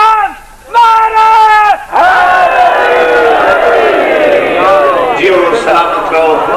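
Large crowd at a Shia religious gathering in Pakistan chanting slogans in loud unison, rising call-and-response shouts that fill the space continuously, with voices swelling and overlapping throughout.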